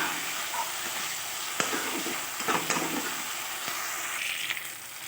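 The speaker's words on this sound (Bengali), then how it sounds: "এই আলুটার সঙ্গে মশলাটা বেশ কিছুক্ষণ ধরে কষে নেব।" Half-boiled potatoes with a spice paste frying in oil for a Bengali egg curry, giving a steady close sizzle and hiss with occasional stirring clicks of a utensil against the pan, no voices.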